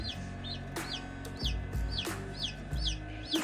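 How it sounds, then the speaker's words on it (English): A large chicken gives repeated low, close clucks at a home incubation setup, with thin high chirps from chicks scattered throughout and no talking. "The big chicken."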